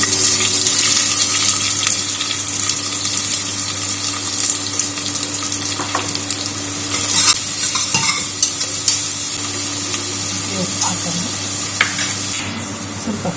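Onions frying in about four spoons of oil for Mexican rice. The sizzle and hiss are steady and close, with occasional stirring clinks and a low background hum.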